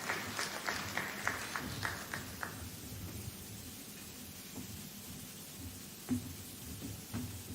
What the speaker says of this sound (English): Let us give the speakers a better hand of applause.